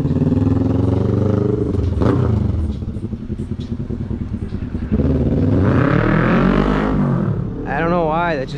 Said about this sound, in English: Like he revved his motor up on purpose.